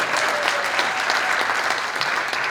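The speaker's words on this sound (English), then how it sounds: "that's a round of applause for everybody" A room full of people applauds steadily at a small business revolution reveal event in Fredonia, a dense, even wash of clapping holding loud and close throughout with no gaps.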